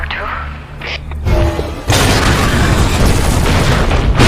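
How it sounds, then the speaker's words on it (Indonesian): A landmine stepped on during a human-versus-alien battle scene in a film goes off as a sudden, loud, deep blast that keeps rumbling, while someone talks over it. "hanya tidak sengaja malah menginjak ranjau tersebut."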